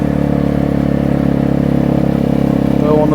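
A Vespa 250 GTS scooter engine hums steadily and loud throughout while riding a country lane, a continuous mid-pitched drone with no clear revving changes.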